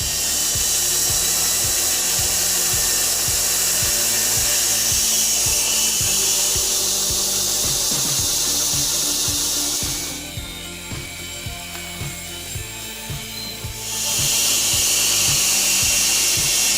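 Firewood processor machine working through roundwood logs, a steady loud mechanical drone with regular rhythmic clunks and grinding, briefly easing in the middle before resuming at full force.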